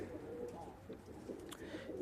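Soft, low pigeon cooing murmurs steadily through the clip, several birds blending into a continuous warbling hum, with faint rustling above it.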